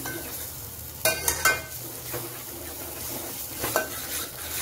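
Cluster beans being stirred in a pan with turmeric, coriander powder and salt, soft sizzling under a few sharp spoon scrapes and knocks against the pan, with no speech.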